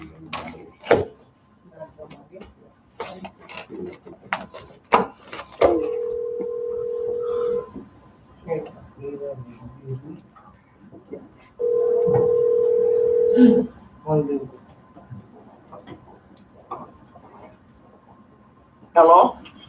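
A telephone ringing tone sounds twice at a tribal council meeting, each steady ring lasting about two seconds, loud and close, with people talking before, between and after the rings.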